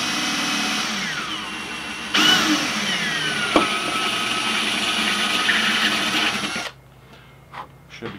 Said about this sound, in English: now I'm going to drill a couple steps with this